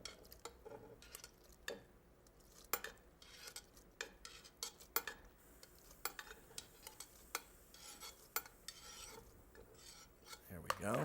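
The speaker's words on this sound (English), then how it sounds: "we stir them around to completely coat them with the cheese" Spoon stirring cooked macaroni noodles into a cheese sauce, with soft wet scraping and sharp intermittent clinks of the spoon against the pot, close and fairly quiet.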